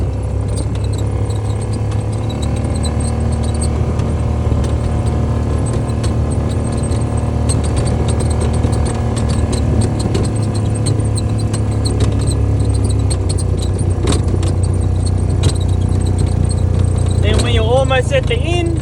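On a farm, a vehicle drives slowly around an irrigator, giving a steady, unbroken low engine hum with scattered small rattles and clicks for the whole stretch.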